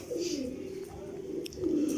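A pair of pet pigeons coo nearby in a low, throaty two-part call, repeated twice over a soft background murmur.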